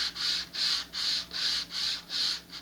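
Sandpaper rubbed back and forth across a bevel on a model rocket part, a rhythmic rasping of about seven even strokes, close and moderately loud with no talk.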